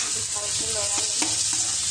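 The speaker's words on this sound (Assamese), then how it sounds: "ভালকৈ লৰাই ল'ম।" A paste of ginger, garlic, black pepper and chili fries in a pan, sizzling loudly and steadily while a spoon scrapes and stirs through it in several quick strokes, close up with no voices.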